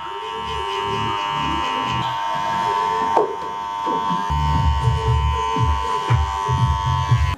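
Electric hair clippers buzz steadily through a men's slicked-back haircut, fading the neckline with a 2.5 guard, the drone constant and close while muffled cutting strokes pulse beneath it.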